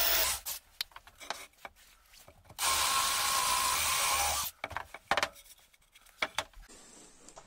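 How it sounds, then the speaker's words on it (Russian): A power drill with a Forstner bit bores steadily through wood for about two seconds, loud and close, between quieter scraping and handling noises. "Беру сверло Форестера и делаю сквозное отверстие"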